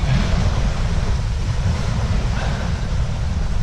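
Waves break and wash up at a small, secluded beach alcove. The roar of surf is loud and constant, heavily mixed with wind buffeting the microphone.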